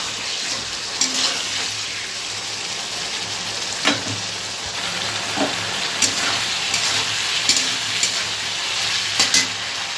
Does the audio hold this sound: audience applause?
no